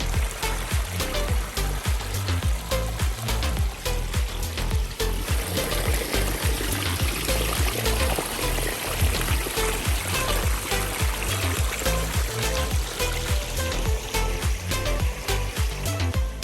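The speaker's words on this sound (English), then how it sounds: "So the waterfalls are real close to you." Water trickling and splashing down a backyard pondless waterfall into a rock basin, a dense, steady, close rush of bubbling and spattering that runs continuously, with no talking.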